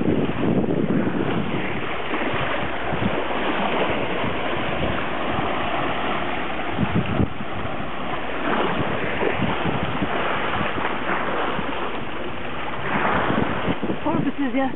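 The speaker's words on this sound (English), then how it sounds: "Now we are sailing under jib, staysail, and main." A sailboat sails under jib, staysail and main at sea, with steady wind buffeting the microphone, rushing water and waves along the hull, and a faint engine running in the background to charge batteries.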